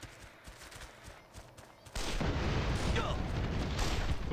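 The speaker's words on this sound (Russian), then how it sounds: "Кто-то стреляет." Gunfire in the action game Armed and Dangerous, quiet scattered shots at first, then a sudden loud, sustained burst of shooting that stays heavy and close to the end.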